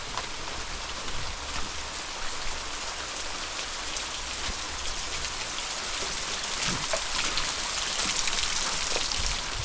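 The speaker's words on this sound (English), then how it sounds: "Man, if it wasn't raining." Steady rain falls through woodland near a creek, a continuous dense patter on leaves and ground that holds level for the whole stretch with no voices.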